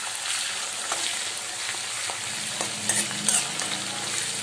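Bay leaves and whole spices frying in hot oil, an even crackling sizzle with scattered pops and a brief cluster of sharper spatters near the end.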